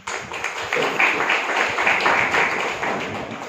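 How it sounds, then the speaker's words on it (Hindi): Audience applause at a spiritual class gathering in Hupari, Kolhapur, a dense steady patter of many hands clapping that fills the room for several seconds. "ताली तो बजाओ।"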